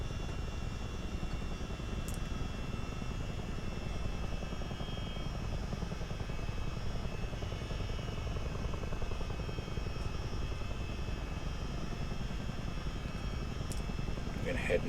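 Miltech CH-47D Chinook tandem-rotor helicopter in Microsoft Flight Simulator, a steady dense rotor drone with low throbbing blade beat held at even loudness throughout, with a voice talking over it.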